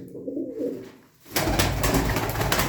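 Pigeon cooing from a breeding pair of long-distance birds at a pigeon auction: a soft low coo at first, then after a short pause a louder, denser stretch of cooing and rustling close by, with no speech.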